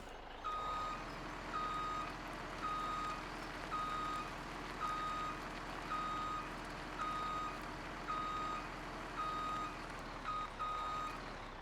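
Truck reversing alarm in Farming Simulator 17, steady evenly spaced beeps repeating about every second over a low engine hum, fairly quiet and without speech.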